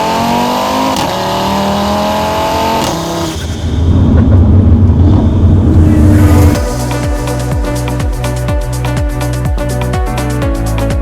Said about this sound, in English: it is safe to say that the car now finally screams